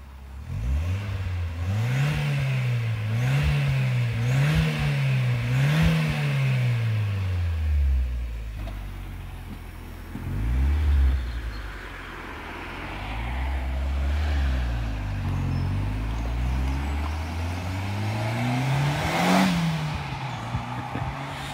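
A 1995 Ford Sierra Sapphire RS Cosworth with a stage one tune, its engine revved repeatedly in a steady wavering rhythm, loud and close, then easing into a lower idle before a final sharp blip.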